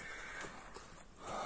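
A large, heavy racehorse gives short neighs and whinnies, fairly faint and at a distance, with no talk.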